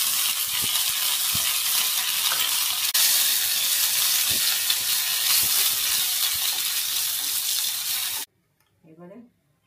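Asafoetida, mustard seeds and curry leaves sizzle and crackle steadily in hot oil, a loud continuous fry with small pops, ending abruptly in near silence with a faint brief sound.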